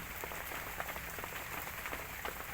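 Rain falling by a hut at the edge of a palm plantation, a dense steady hiss of drops on surfaces with scattered patters, continuous and fairly faint, with no talk.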